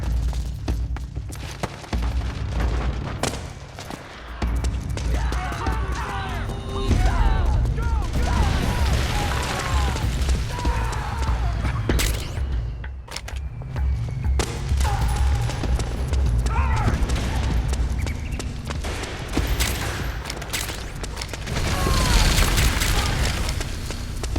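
Rapid bursts of gunfire and heavy explosive booms from a battle defending a mansion in Metal Gear Solid 4: Guns of the Patriots, dense and continuous with shouted voices mixed into the fray.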